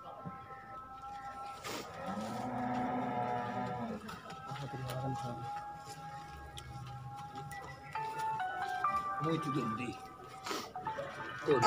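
A buffalo at a dairy farm gives a long, low lowing call near the start, with a few quieter calls and farmyard clatter later, under someone talking close by.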